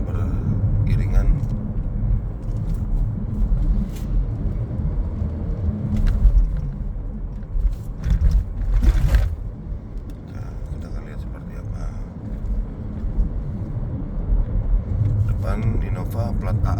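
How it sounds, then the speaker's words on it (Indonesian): Several cars travel in a five-vehicle convoy along an Indonesian highway on a long Jakarta–Medan road trip, heard as a steady, loud road rumble and engine drone from inside a moving car, with swells as traffic passes. "mobil bergerak beriringan."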